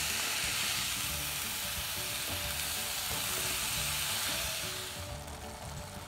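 Grated bottle gourd halwa sizzles steadily in a pan, a dense continuous frying hiss with occasional stirring scrapes, easing slightly toward the end.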